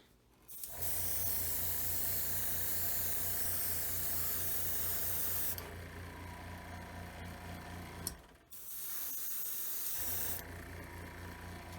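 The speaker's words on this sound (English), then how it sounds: "So I'm going to start off just by airbrushing some black onto the model." An airbrush sprays black paint onto a scale model: a close, steady hiss in two long bursts, the first about five seconds and the second about two, separated by quieter gaps and a small click.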